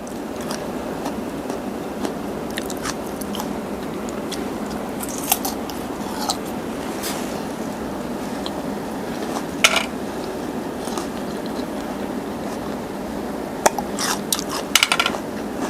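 Close, steady crunching and chewing of candied giant tamarind from Phetchabun, with scattered sharp bites and clicks over a continuous moist mastication sound and no speech.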